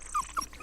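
A puppy whimpers in a dubbed animated cartoon, giving a few short, high whines, soft and close.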